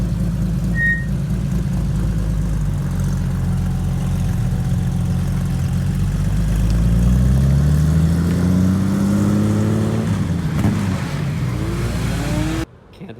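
A low-slung RWB Porsche at a car meet, creeping down a steep ramp with its engine idling, then rising in a slow rev that fades near the end, loud and close without talk.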